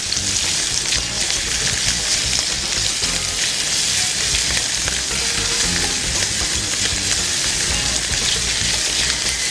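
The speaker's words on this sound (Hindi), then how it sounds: "इसको यहाँ से सौते करेंगे इस तरीके से।" Bean burger mixture with mushroom slices sautéing in a pan, giving a loud, steady sizzle and crackle that runs without a break, with stirring mixed in.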